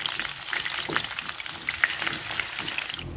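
Taro pieces frying in hot oil give a steady, close sizzle with scattered small pops and crackles, with no talking.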